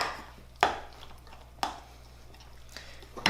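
A knife scrapes and stirs a sourdough mixture inside a container, producing three sharp, close knocks against the sides spaced about a second apart over a soft, wet background.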